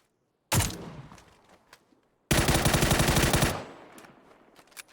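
Gunfire in PUBG: a sharp shot that trails off, then after a pause a dense burst of rapid automatic fire lasting over a second, followed by scattered fainter shots.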